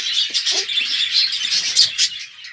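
Soft cooing from pigeons mixed with a constant high chorus of chick chirps, close and busy, with no talking.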